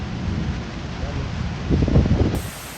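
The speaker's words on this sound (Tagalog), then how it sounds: "Lakas ng hangin dito." Strong wind at Bacacay, Albay, in Bicol roars and buffets the microphone in a steady low rumble, swelling louder for a moment near the end.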